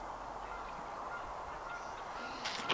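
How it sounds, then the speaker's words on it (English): Canada geese honk outdoors at an excavation site, a few faint, distant calls rising near the end over steady background noise. "Got all sorts of these Canadian geese that are out here."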